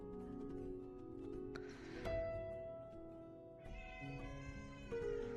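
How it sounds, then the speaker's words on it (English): A house cat meows during a livestream, its voice sitting over steady game music and background sound at moderate distance, with no one talking. "That's the cat."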